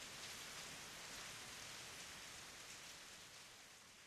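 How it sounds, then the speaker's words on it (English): Heavy rain downpour pours down as a dense, steady roar of water hitting surfaces, continuous and enveloping with no pauses. "the rain turns into a full downpour"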